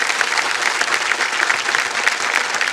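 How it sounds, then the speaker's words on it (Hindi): Studio audience applause on a TV quiz show, a dense, steady burst of clapping that carries on loudly from start to finish with no talk over it. "तो ताली बज जाए."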